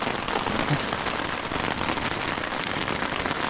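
Rain falls steadily in a forest, a dense, even patter of drops on leaves and surfaces that stays close and constant throughout, with no voices.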